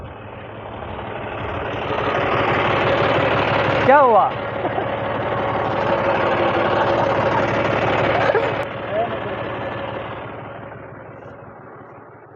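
A tractor engine idles in a farm field after its chain has come off, a steady, fairly loud, rumbling drone running throughout while people talk over it.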